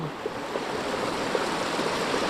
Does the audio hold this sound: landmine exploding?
no